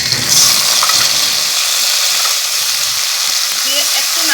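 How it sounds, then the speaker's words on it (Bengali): Ginger, green chilli and onion pastes sizzle loudly in a hot kadai, a steady close crackling hiss that runs throughout with faint stirring underneath. "এই বাটা মশলাগুলো কড়াতে আমি দিয়ে দেব।"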